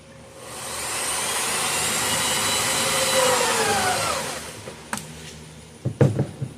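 A power drill whirs loudly for about four seconds while drilling into a plastic bucket, its pitch shifting as it bites in, then winds down, followed by a few knocks and clunks.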